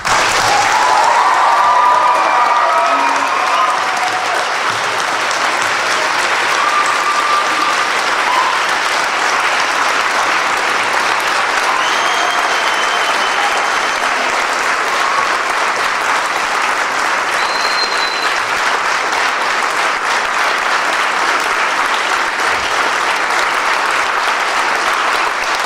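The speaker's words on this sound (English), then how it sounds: "celebrate the accomplishments of Class 22 with one final round of applause" A long final round of applause from staff and cadets at an academy graduation ceremony, a large crowd clapping densely and continuously in a big hall, loudest at the start and then holding steady with occasional faint voices.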